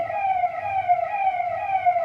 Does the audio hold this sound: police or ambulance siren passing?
yes